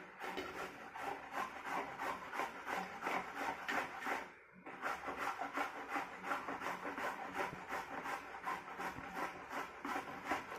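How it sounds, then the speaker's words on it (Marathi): Carrots being grated by hand for carrot halwa, a close, rhythmic rasping scrape repeating in quick even strokes, broken by one short pause midway, with no talking. "आता सगळं हे आपण किसून घेऊ"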